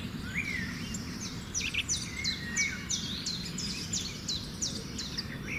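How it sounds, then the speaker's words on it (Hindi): Birds outdoors chirp and sing in repeated short, bright calls against a steady, low background hum. The calls sound moderately distant and continue throughout, with no talk. "कोई आवाज़ें बाहर से आ रही होंगी, कोई पक्षियों की आवाज़ें।"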